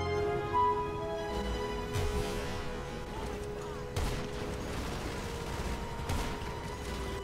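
Gunfire in GTA 5 Online sounds as scattered sharp shots and booms, with a few strong blasts spaced a couple of seconds apart over a steady game backdrop.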